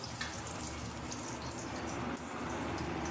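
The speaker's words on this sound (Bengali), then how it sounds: "কড়াইয়ের মধ্যে আমি ডাল ঢেলে দিয়েছি" Cooked dal pours steadily into a kadai, a soft continuous gushing that is faint and close.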